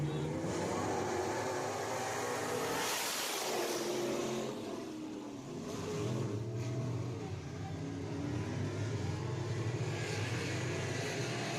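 Race cars roar off together at the start of a heat race at Deep South Speedway, a loud, layered engine drone that swells, dips briefly, and builds again as the pack accelerates.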